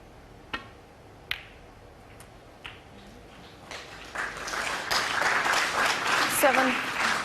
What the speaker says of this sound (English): Yes, deserved applause that.